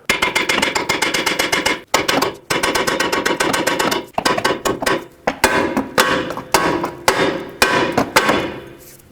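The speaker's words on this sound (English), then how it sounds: "I have a flat area to hammer on without damaging the bolts" Rapid, loud metallic hammer blows pound bolts out of a front strut from a 2007-2009 Saturn Aura, striking in fast bursts separated by short pauses.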